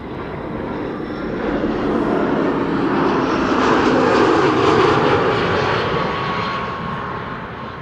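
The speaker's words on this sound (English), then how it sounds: "This is EasyJet flight 23173 arriving from Glasgow in Scotland" EasyJet Airbus A319, 16 years old, arriving at Amsterdam Schiphol from Glasgow, its jet engines roaring steadily as it passes close by, swelling to a peak mid-pass and then easing slightly, with no voices.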